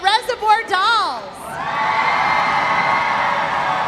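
A roller derby crowd at a Mad Rollin Dolls bout between the Vaudeville Vixens and the Reservoir Dolls: a few high whoops and shouts at the start, then a sustained wash of cheering and roaring.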